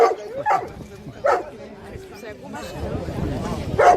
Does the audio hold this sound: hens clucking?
no